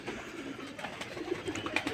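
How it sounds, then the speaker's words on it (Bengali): On a wet rooftop after an early morning release, pigeons coo softly and steadily behind a faint, even background hiss. "আর সকাল সকাল পায়রা ছেড়ে দিয়েছি"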